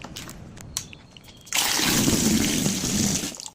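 Wheat grains poured into water to soak for making bread, a sudden steady splashing pour that starts midway and runs loud and close after some quieter handling noises.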